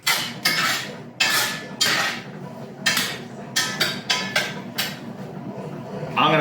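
Vegetables being tossed with olive oil in a pan before roasting, giving a series of loud, irregular metallic scrapes and clatters with short pauses between them, close by and without talk.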